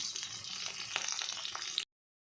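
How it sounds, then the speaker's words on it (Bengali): Eggplant slices coated in salt and turmeric frying in a pan, a steady bright sizzle with small crackles and pops, close and even, cutting off abruptly. "বেগুন এই যে নুন হলুদ মাখিয়ে নিয়েছি আর এখানে ভাজছি"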